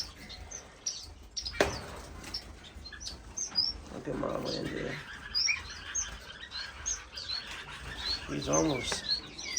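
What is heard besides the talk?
Indian silverbill finches chirping in a bird room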